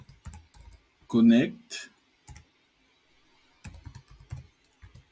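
Keys on a computer keyboard clatter in quick close bursts as a command is typed, with a short spoken word between the rows of clicks.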